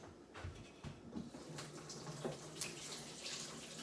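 A kitchen tap runs steadily while carrots are rinsed under it for carrot cake, a soft continuous water rush with faint splashes and shifting flow, fairly quiet and without talk.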